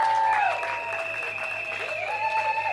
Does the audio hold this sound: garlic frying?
no